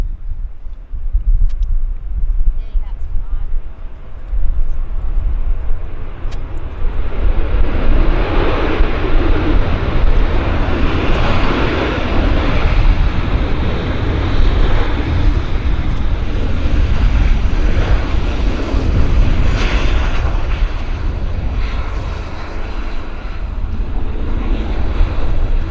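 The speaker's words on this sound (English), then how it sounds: "WestJet 37. Touching down quite nicely." A WestJet airliner touching down at Vancouver Airport, its engines roaring loudly and steadily throughout with broadband rush and wind buffeting, heard close and alone.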